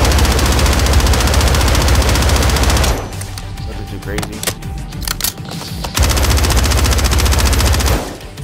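Automatic gunfire from the video game Modern Warfare 3 rattles loud and close in sustained bursts, breaks off briefly midway, then resumes at full intensity.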